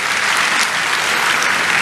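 A church congregation gives God a loud, enthusiastic round of applause, dense continuous clapping filling the room from start to finish with no break.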